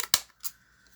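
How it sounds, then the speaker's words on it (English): Small decorative scissors snip paper in two quick, crisp cuts close to the microphone, with quiet room tone in between. "Just use my fancy little scissors here."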